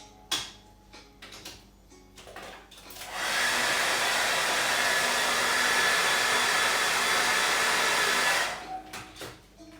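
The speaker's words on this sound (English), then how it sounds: "I'll be right back and I'll do the hairdryer thing." A hair dryer roars steadily for about five seconds, loud and close, with brief clicks and handling sounds before and after.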